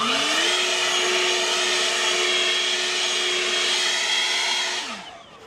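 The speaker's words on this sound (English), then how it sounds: "This is a bloody good blower." An Ego LB7650E handheld battery leaf blower runs steadily at full power close by, making a loud, even whine and rush of air. It holds for about five seconds and then spins down, with no talking.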